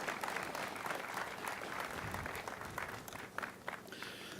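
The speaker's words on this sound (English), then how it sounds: "give these two ladies one hell of applause" Audience applause at a veterans center dedication ceremony: dense, steady clapping from a crowd that fills the whole stretch, with a few sharper individual claps near the end.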